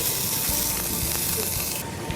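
Regular pork sausage sizzles steadily in a frying pan, a constant close hiss that holds at even loudness throughout with no talking over it.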